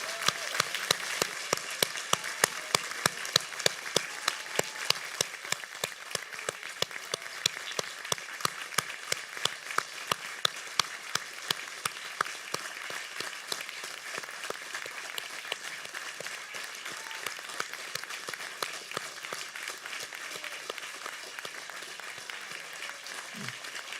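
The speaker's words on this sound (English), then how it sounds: "Let us all stand up and give a round of applause to Tan Sri Zeti and Dr. Muhammad Razali." An audience at a virtual convocation ceremony claps steadily for over twenty seconds, individual sharp claps clearly spaced and fairly close, slowly thinning toward the end with no talking over it.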